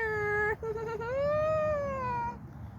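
A cat lets out a long, loud meow that rises and then slowly falls, close by, with a low background hum beneath it.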